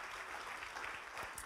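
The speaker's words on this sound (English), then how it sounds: "Let's clap our hands right now if you believe that word." A worship service congregation clapping their hands together, a dense, steady wash of applause heard alone and filling the short moment.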